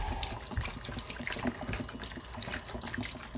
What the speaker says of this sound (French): Vous remettez de l'eau.